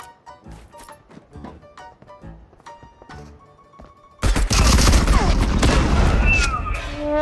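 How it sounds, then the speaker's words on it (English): A bomb goes off in the video game Marauders: quieter in-game clicks and thumps give way to a sudden loud, sustained explosion blast that roars and crackles for several seconds. "he got me with the explosion"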